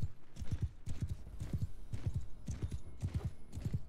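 A horse gallops in the video game Mount & Blade 2, with steady, rhythmic hoofbeats in a repeating three-beat pattern, close and continuous from start to finish.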